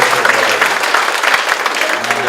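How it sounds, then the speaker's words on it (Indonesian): Audience at a stand-up comedy show applauding the women present, dense continuous clapping from a crowd that stays loud and close throughout. "Tepuk tangan buat wanita-wanita yang ada"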